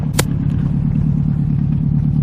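Deep, steady idle rumble from a big-turbo Nissan Z car engine close by, a continuous low throb with no revving and one brief click near the start.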